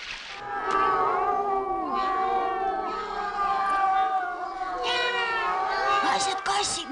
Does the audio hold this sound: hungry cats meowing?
yes